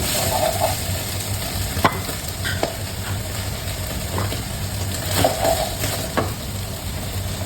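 Cream cooks in a pan for pasta, giving a soft steady bubbling sizzle with occasional sharp clicks and scrapes of stirring, close and continuous, with no talk.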